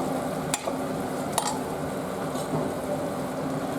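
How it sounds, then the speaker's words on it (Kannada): A tempering sizzling in hot oil for Mysore bisi bele bath, a steady close hiss with a few sharp spoon clinks against the pan, no talking. "ಇದು ಒಗ್ಗರಣೆ ಹಾಕ್ಕೊಳ್ಳೋಣ ಈಗ"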